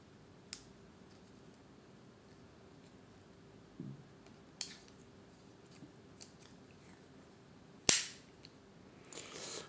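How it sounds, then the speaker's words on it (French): A Swiss army knife's tools flicked open one-handed: sparse sharp metallic clicks and snaps, one louder crisp snap near the end, close and otherwise quiet, no talk. "Le poinçon aussi peut être ouvert avec le majeur."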